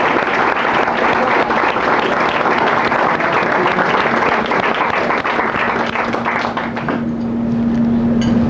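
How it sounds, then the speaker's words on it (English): Sustained loud applause from a company gathering at a brush maker's 100th anniversary celebration, thick continuous clapping with a low steady hum rising near the end as it begins to thin. "Give yourselves a big round of applause."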